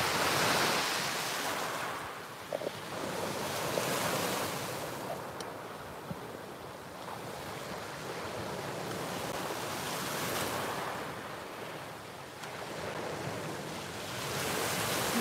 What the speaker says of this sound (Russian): Да, Черное море, это Сочи.